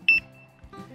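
A Kijima Cycle Alarm Combat 5 motorcycle anti-theft alarm on a Suzuki V-Strom 250 gives two short, piercing electronic beeps in quick succession, followed by a softer tonal chirp a moment later; close and clear.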